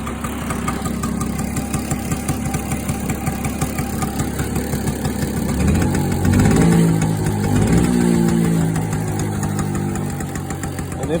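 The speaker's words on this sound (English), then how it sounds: "2-stroke engine, 6 volts. Okay, now that it's warming up" A 6-volt two-stroke Vespa scooter engine, an original DC Police model, idles steadily with a rapid knocking pulse while warming up, then rises in a couple of brief revs before settling again, loud and close.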